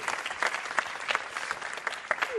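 An audience applauds at a hydrogen awards ceremony. The clapping is dense and steady, with individual sharp claps standing out, and it holds at a moderate level throughout with only faint background voices.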